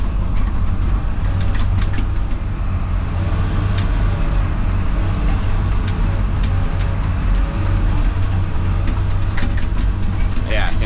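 A Komatsu 71pxi dozer engine runs while slot dozing in Miami. Its heavy, constant low rumble continues throughout, with scattered clanks and rattles on top.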